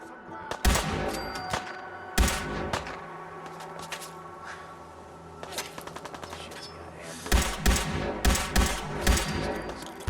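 Grenades blast and guns fire during a firefight with raiders in the game Fallout 4, giving loud repeated cracks and bangs in irregular clusters, with a quieter stretch in the middle.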